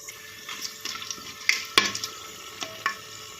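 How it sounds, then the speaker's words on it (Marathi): Whole spices sizzling in hot oil in a pan for vegetable pulao, with a light crackle and several close scraping stirs, one sharp clatter in the middle. "खडे मसाले तेलामध्ये चांगले परतून घ्यायचे म्हणजे त्याचा स्वाद त्या तेलामध्ये उतरतो"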